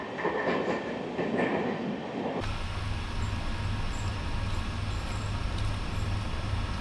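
A train runs through tunnel number 11 on the hill line from Haflong toward Sairang. A clattering rattle gives way abruptly to a deeper, enclosed rumble that holds steady, with no voices.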